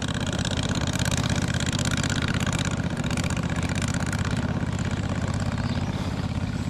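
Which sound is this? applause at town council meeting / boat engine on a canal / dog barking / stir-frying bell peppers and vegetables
boat engine on a canal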